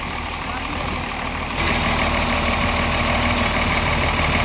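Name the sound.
diesel engine idling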